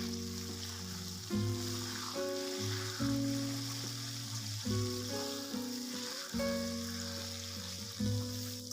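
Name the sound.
tomatoes and green chillies sautéing in a pan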